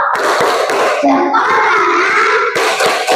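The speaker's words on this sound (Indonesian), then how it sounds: "Coba tepuk jempol." A group of first-grade children clap their hands together in a quick rhythmic pattern, loud and close, with young voices chanting along in Indonesian.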